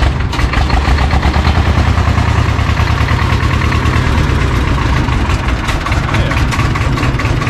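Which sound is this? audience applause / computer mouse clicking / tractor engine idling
tractor engine idling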